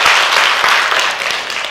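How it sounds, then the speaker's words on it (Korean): Church congregation clapping during a special dawn prayer service, a loud, dense wash of applause filling the whole short stretch without talk. "박수 한번 해야 되겠습니다"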